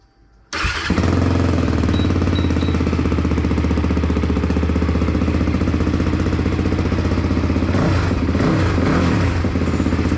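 A repaired Can-Am ATV engine cranks and catches after a brief silence, then runs close and loud with a rough, rapid idle that lasts to the end.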